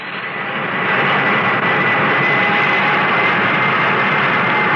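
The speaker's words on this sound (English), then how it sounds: "Request permission to start engines." Airliner engines start up as a radio drama effect: a broad jet roar swells over the first second, then holds as a loud, steady whine. No voices are heard.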